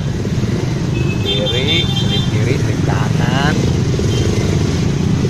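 A 2019 Honda Monkey motorcycle rides through congested traffic, its small engine humming steadily beneath a rider talking, with traffic noise around it.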